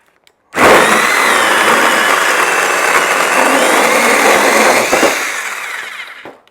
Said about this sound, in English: This thing is perfect for chopping the ends off of wood.